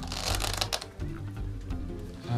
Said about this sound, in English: You go to the card shuffle